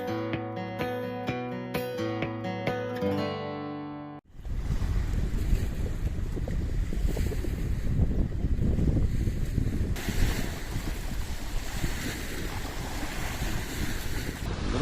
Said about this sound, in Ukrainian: Бачите, що робиться. Ураган самий натуральний.